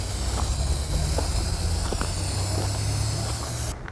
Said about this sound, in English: We'll apply our spray glue.